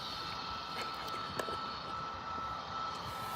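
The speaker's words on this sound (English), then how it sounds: "Got Ryanair heading out." A Ryanair airliner departs Birmingham airport, a faint distant steady jet engine roar holding evenly throughout with a small knock partway.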